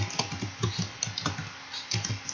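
Fingers type on a computer keyboard while a formula is entered into a spreadsheet, producing a steady patter of close, quick key clicks with occasional louder taps and no talking.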